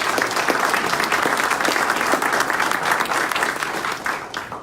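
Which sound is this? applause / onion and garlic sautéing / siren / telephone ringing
applause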